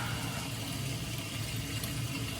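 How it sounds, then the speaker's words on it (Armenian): Hot water runs steadily from a household tap, a constant close rushing flow with no pauses or talk. "Հիմա քանի տաք ջուր եմ բացել։"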